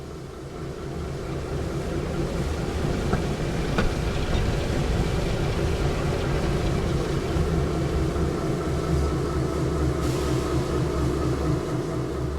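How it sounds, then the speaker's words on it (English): A diesel locomotive in Train Sim World 5 rolls into a station with a steady low engine rumble and droning hum, continuous and fairly loud, with faint squeaks and clanks over it. "Just then, Diesel rolled into the station."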